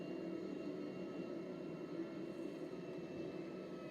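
A Boeing 747 approaching to land in a GTA video game makes a steady, dense engine roar with a constant low hum, continuous and unchanging throughout.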